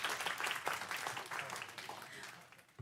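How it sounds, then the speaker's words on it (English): Audience applause at a council meeting, a steady round of clapping from a modest crowd in a hall, fairly faint and continuing for a few seconds before trailing off. "give them another round of applause"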